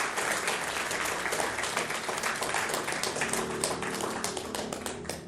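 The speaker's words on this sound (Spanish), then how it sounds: "Dale un aplauso entonces, Carlos." A church congregation gives a full round of applause during a sermon, the clapping continuous and lively for about five seconds, with some murmuring voices mixed underneath.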